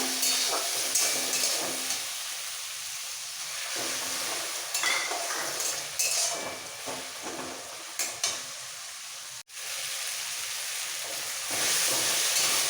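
Cumin and coriander paste masala frying with onions and a splash of water, crackling and sizzling up close, with repeated stirring scrapes and clinks against the pan and a sudden brief dip near the end.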